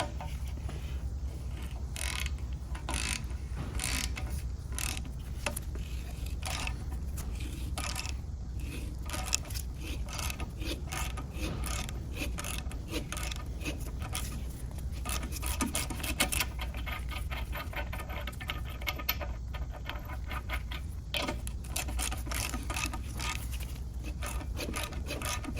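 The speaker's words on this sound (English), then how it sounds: "You can hear it cutting threads in there." Tap threading a cast iron engine part, a steady close grinding and rasping with rapid ratchet-like clicks running continuously without pause.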